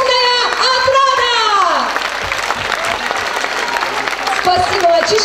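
A concert audience at a Russian folk music show applauds loudly and steadily for a few seconds, with a voice calling out over the clapping at the start and again near the end.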